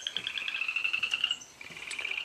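A chorus of frogs croaking along a stream, a steady pulsing trill that briefly drops and resumes, with faint insect-like chirps mixed in and no talking.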